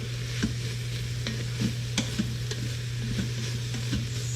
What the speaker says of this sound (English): the onion is already getting cooked in with the ground beef